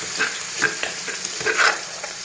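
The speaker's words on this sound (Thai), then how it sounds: "ปลาทู น้ำพริกปลาทู ลงไปผัด" Mackerel chili paste being stir-fried in a pan, a close, loud sizzle with scraping and stirring bursts over roughly two seconds.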